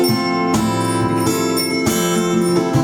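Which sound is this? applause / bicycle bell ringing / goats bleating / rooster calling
bicycle bell ringing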